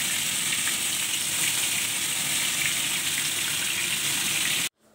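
Marinated mutton poured into browned onions in a pan for mutton curry, producing a loud, steady, dense sizzling hiss that runs nearly unbroken, close up, then cuts off abruptly near the end.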